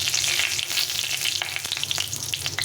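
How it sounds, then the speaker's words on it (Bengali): Whole spices, a dried red chilli, bay leaf and cumin, tempering in hot cold-pressed mustard oil, sizzling and crackling loudly and steadily from close up, with no voices. "দিয়ে ফোড়নটাকে একটু লাল লাল করে ভেজে নিতে হবে"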